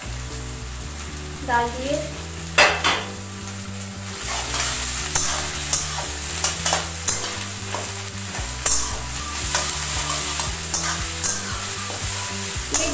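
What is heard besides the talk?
garlic paste frying and being stirred in a pan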